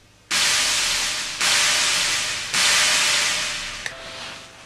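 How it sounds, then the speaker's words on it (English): A noise sample on a Roland D-50 synthesizer: three bursts of loud, bright synthesized hiss start abruptly and fade slightly, followed by a softer fourth burst, with a faint tone underneath. "Here is a noise sample on the Roland D50."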